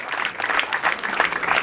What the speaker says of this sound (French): je pense que cela mérite des applaudissements de votre part